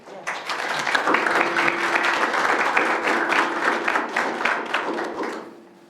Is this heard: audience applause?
yes